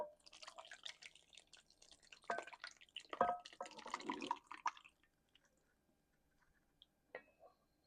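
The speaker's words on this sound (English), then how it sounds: "pour all of this liquid gold on top" Liquid is poured over crumbled cornbread in a big bowl for dressing, giving soft wet splashing and squishing for a few seconds. It then falls to near silence with a last faint drip.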